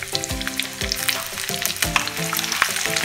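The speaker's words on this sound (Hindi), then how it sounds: "घी गर्म हो चुका है, अब हम इसमें 8-10 कलियां लहसुन की काट के डाल देंगे।" Chopped garlic cloves frying in hot ghee: busy sizzle with crackles and pops, loud and close, overlapping with low harmonic tones that rise and fall, as if something tonal plays alongside.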